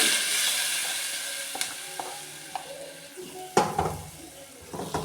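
Coconut pieces fry in an oiled pan for a beef curry, giving a steady close sizzle with a few sharp stirring clinks and spoon scrapes against the metal.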